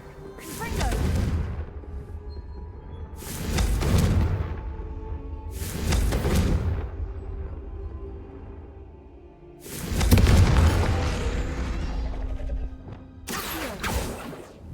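Confringo fire spell explosions in the Hogwarts Legacy video game, several loud bursts at uneven intervals, each a sharp blast with a rumbling tail.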